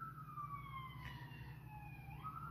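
Emergency sirens outside a building, wailing tones sliding up and down, faint and distant beneath a low steady indoor hum, with no voices.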